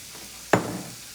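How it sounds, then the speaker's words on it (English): Chopped onions and leeks drop into hot butter and olive oil in a pan, bursting into a loud sudden sizzle that quickly settles into a softer, steady crackle. "Okay, remember the onions and the leeks? In they go."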